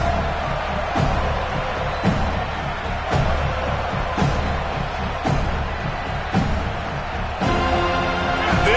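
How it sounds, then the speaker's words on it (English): A stadium crowd at an American football game roars in a broad, continuous wash of cheering and noise, loud and sustained, with faint rhythmic thumps under it. "This crowd ready to make its presence known."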